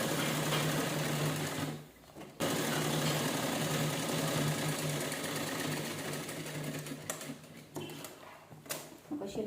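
A sewing machine stitching a cloth bag runs in a fast, steady whirring chatter, close and continuous, with a brief pause near the two-second mark and a few short stops toward the end.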